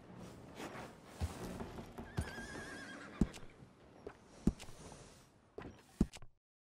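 A horse in the video game Red Dead Redemption 2 whinnies and snorts close by, with scattered hoof clops and thuds around it, fairly quiet overall before it cuts to silence.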